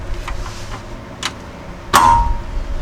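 Tools work on the frame stiffener bolts of a Jeep Cherokee XJ unibody, tightened to 55 pound-feet, giving a couple of sharp, close metallic clanks, the last ringing briefly, with quiet pauses between.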